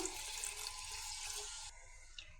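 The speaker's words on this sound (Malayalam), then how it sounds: "ഇതിനി വേവാൻ ആവശ്യത്തിന് വെള്ളം ഒഴിച്ചു കൊടുക്കാം" Water pours steadily into a cooking pot of pulissery, a Kerala yogurt curry seasoned with salt and turmeric, as a close continuous gushing stream that drops to a softer trickle near the end, with no talking.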